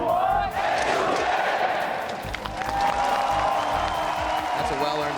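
A large crowd at a League of Legends esports match roars and cheers continuously, loud and sustained, with shouting voices blending into a dense wall of noise.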